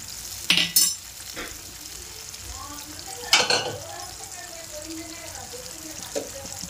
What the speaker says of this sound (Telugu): వేసుకొని ఇట్లా కలుపుకొని కొంతసేపు మూత పెట్టాలి.